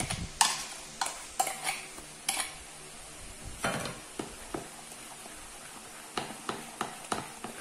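A utensil stirs dough with melted butter in a bowl, giving a series of sharp scraping clinks in an irregular rhythm, close and fairly clear, with no talk over it.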